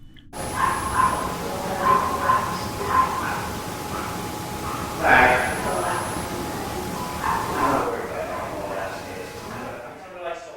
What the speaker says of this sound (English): The camera's audio recorded the sound of a dog barking.